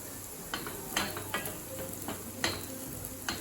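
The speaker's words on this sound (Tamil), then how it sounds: "கேரட் நல்லா வதங்கின பிறகு நம்ம திராட்சையை சேர்த்துக்கலாம்." Grated carrot and raisins sizzle softly in a pan while being sautéed for carrot payasam. The gentle frying hiss runs throughout, with a few sharp scraping stirs of a utensil and no talk.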